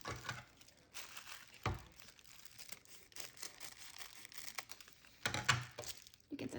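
Scissors snip the sealed end off a plastic bag amid crinkling plastic, faint close rustles with a few sharper cuts and crackles.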